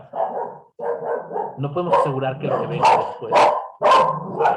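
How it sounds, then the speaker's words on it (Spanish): A neighbour's female dog barks repeatedly at close range indoors, sharp yelping barks in bursts interrupting someone speaking Spanish. "perdón por el perro, que es la perra de la vecina que se mete a la casa"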